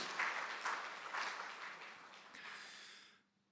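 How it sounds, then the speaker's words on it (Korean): A church congregation at a Korean Pentecost Sunday service claps together in a soft, dense burst that gradually tapers off and stops abruptly into near silence. "박수하겠습니다."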